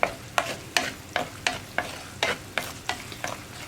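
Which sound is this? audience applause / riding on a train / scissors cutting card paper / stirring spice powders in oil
stirring spice powders in oil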